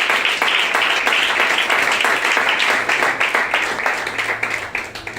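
An audience claps together during a sermon, with loud, dense applause at first that gradually thins into scattered, separate claps toward the end.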